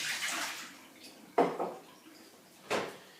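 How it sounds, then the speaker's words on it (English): Algae being rinsed in water in a kitchen gives soft splashing, then sloshes and drips in two distinct bursts, quiet and close, with no talking. "I wash the algae."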